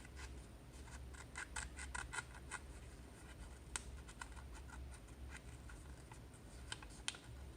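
Quick, crisp snips of scissors cutting through paper, repeated in short uneven bursts over a low steady background hum.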